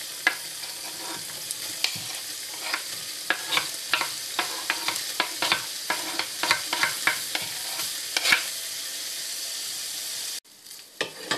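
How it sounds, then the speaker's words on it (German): Continuous sizzling of ham frying in margarine in a pot, broken by frequent scraping stirs and clatters of a utensil, close and steady until a brief pause near the end. "den Schinken zufügen und gut anbraten."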